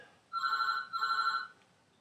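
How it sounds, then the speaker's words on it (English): A telephone rings twice, each ring a bright, electronic trill lasting about half a second, heard close and alone with a short pause between rings. "the phone's ringing"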